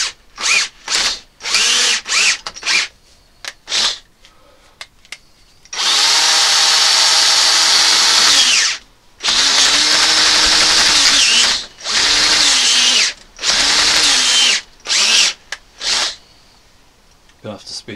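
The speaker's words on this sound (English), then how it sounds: "Gonna have to speed it up, the drill won't handle it." A power drill bores with several long sustained bursts and many short trigger blips, close and loud, while someone talks between runs on a Land Rover Discovery 3 (LR3).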